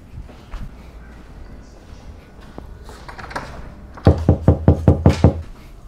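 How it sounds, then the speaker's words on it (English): Seven sharp knocks on a door in quick succession, loud and close, following a few seconds of quiet room noise with faint soft thuds. "Someone's at my door."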